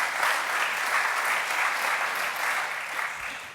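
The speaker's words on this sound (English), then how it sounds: "You can applaud if you want to." An audience gives steady, even applause, a dense wash of many hands clapping together without a break for a few seconds.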